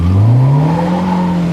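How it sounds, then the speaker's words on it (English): A K24A2-swapped Honda EP3 pulling away hard in first gear, its engine note climbing steadily as the tires spin, loud and close without any voices. "It just lights the tires up and makes the tires spin."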